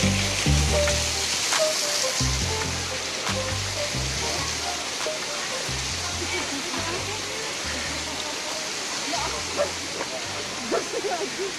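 A small waterfall pours water from above along a rocky trail near the Banyumala twin waterfalls, a steady rushing, splashing wash that fills the whole span, with some thumps and footsteps nearby.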